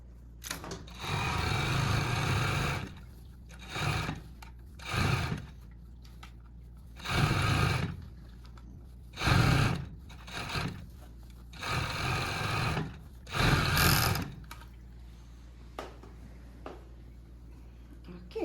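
A sewing machine stitches the side seam of a blouse in about seven short, loud bursts of rapid whirring, each one separated by a brief pause.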